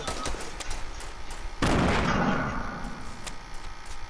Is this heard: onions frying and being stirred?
no